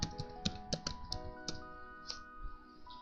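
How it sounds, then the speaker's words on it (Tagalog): Someone types a Gmail login on a computer keyboard: a short, irregular run of close, crisp key taps with small gaps between them. "i-type natin ang Gmail login"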